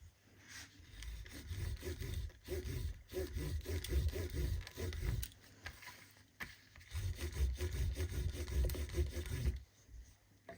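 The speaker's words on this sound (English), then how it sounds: "I'm just going to run my slicking tool down here just to close up these stitches" A leather slicking tool is rubbed back and forth over the stitching of a shoulder holster, making rhythmic, close, soft scraping strokes in two bursts separated by a brief pause, with no talking.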